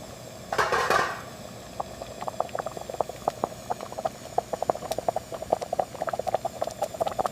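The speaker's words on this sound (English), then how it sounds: "in order to keep the broth simmering at its ideal, consistent level" Broth simmers along a factory production line in a jellyfish food plant, steady close bubbling with rapid irregular pops and plops over a low hum, after a short splashing burst near the start.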